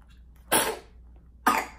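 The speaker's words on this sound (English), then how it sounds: "He's just got so much mucus going on that he's been coughing and everything." A baby gives two short, wet coughs about a second apart, close and fairly quiet, each one a sudden breathy burst with silence between.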